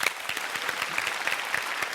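Dense, steady audience applause fills the room during a Tamil Diwali special television show, many hands clapping at once with no voices rising above it.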